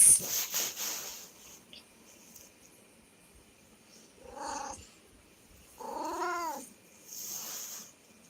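A cat meows twice, drawn-out and fairly close, with rustling noises at the start and quiet gaps between the calls.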